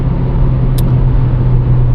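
Subaru WRX VB sedan engine pulling steadily under acceleration, a continuous low, even drone heard from inside the car with no talk.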